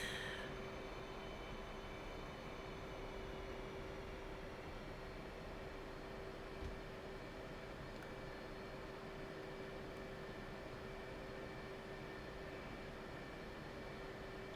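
An F/A-18 jet taxis in the DCS World flight simulator on the Nevada Test Range, a steady low engine drone with a constant whine running evenly throughout, with no talk.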